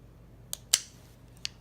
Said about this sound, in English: So I'm just going to trim his nails up with this